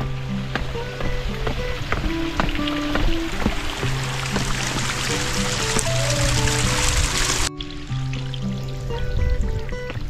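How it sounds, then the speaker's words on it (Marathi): Spring water from the hills flows down stone steps on a trek route, a steady, loud rushing and splashing that continues without a break and dips briefly near the end. "इथं आपल्याला डोंगरातून आलेला हा पाण्याचा झरा पाहायला मिळत आहे. आणि हे पाणी पुन्हा पायऱ्यांवरून वाहतंय."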